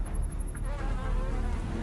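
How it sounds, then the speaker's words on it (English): Mosquitoes buzz in a steady, close, high-pitched whine that holds without a break, with no voices over it. "As the Earth warms, mosquitoes will spread."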